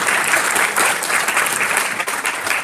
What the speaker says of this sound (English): please give them a round of applause for all the support that they show